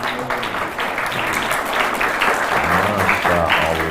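An audience at an Islamic religious lecture in Kukar, Indonesia, claps in sustained, dense applause, close and loud throughout, with voices and tonal sound murmuring underneath.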